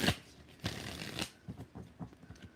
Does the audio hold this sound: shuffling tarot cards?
yes